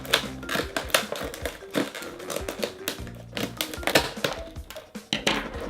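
Scissors snipping along the sides of a Crash Bandicoot NECA action figure's plastic packaging, a rapid run of crisp clicks and plastic crackles close to the microphone with no talk.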